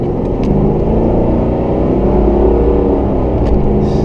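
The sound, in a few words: 1994 Ford Mustang GT accelerating, exhaust note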